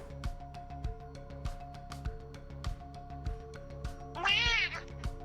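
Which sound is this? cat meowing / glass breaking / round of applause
cat meowing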